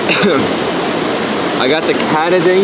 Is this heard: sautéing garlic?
no